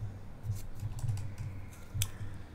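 Short bursts of typing on a computer keyboard, soft and close, with irregular clusters of key taps under a low steady hum.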